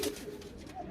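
A rooftop pigeon gives a short, soft coo up close, faint and without talk.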